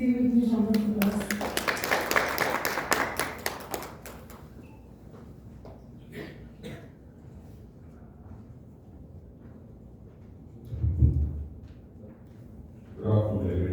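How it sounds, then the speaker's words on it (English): An audience claps at a hospital event, loud and dense at first and then fading out quickly, followed by quiet room noise, a couple of bumps and a speaker starting to talk. "Ladies and gentlemen, please give a huge round of applause."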